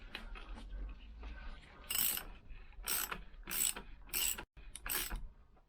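A Lambretta scooter gearbox is turned over by hand in a workshop, giving close, quiet ratcheting and gear clicks in several short bursts separated by brief pauses.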